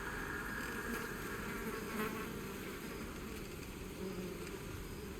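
Buzzing of a swarm of flies in Baldur's Gate 3, a steady, dense insect drone that holds close and fairly loud for the whole stretch with no talk over it.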